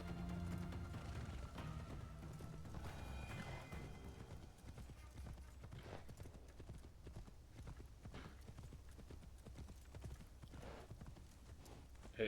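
Horse hooves clip-clopping steadily during riding in Assassin's Creed Shadows, a continuous rhythmic gait under ambient game sound, with occasional faint talk.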